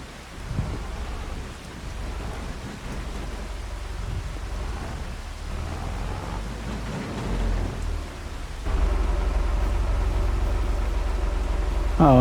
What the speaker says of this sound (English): We do have rainy days on the farm, no doubt about it.